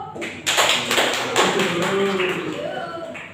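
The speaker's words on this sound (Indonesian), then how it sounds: "Tepuk tangan yuk." Classroom students clapping their hands during a micro-teaching lesson, a burst of claps mixed with voices and cheering, moderately loud and fading toward the end.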